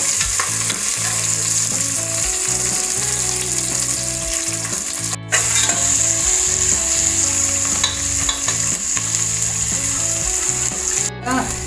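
Onion and curry leaves fry in hot oil for an Ugadi festival gozzu, a loud steady sizzle running throughout with scraping stirs and two brief dropouts.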